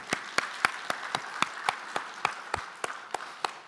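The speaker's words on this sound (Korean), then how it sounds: "박수 한번 칠까요?" A small church congregation clapping in a slow, steady rhythm, about a dozen distinct unison claps at roughly even intervals, moderately faint with a quiet room tone between them.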